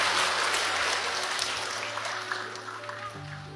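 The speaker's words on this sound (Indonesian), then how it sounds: "Tepuk tangan buat anak kedua." Applause from an audience at an Islamic question-and-answer talk, strongest at the start and gradually thinning and fading, with a low steady hum underneath.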